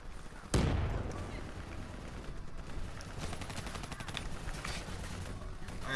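Gunfire in the Call of Duty: Black Ops 3 campaign, opening with a sharp loud blast followed by a continuous distant rattle of automatic weapons and scattered shots, fairly quiet overall.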